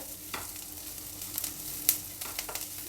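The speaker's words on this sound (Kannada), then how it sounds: "ಈರುಳ್ಳಿ ಎಲ್ಲ ಆಲ್ಮೋಸ್ಟ್ ಫ್ರೈ ಆಯಿತು ಹಾಗೆ ಜೊತೆಲೇ ಎಳ್ಳು ಸಿಡಿತಾ ಇದೆ" Onions fry with sesame seeds in hot tempering oil, a soft continuous sizzle broken by sharp, scattered pops and splutters of bursting seeds.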